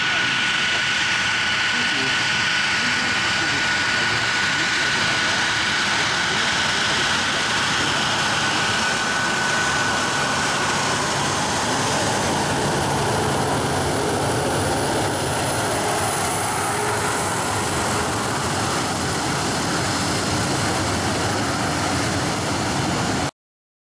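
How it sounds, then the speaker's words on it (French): A Rafale fighter jet taking off at an air display at an air base open day, a loud sustained engine roar that swells and shifts in pitch, with an announcer talking over it. "puisqu'au décollage, il est là, mesdames et messieurs. Le Rafale sur le display."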